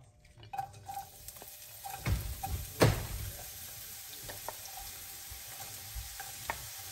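Onion sautés in a pan with a soft, low sizzle, broken by a few sharp utensil scrapes and clanks against the pan, loudest in the middle, before settling into a quieter steady fry.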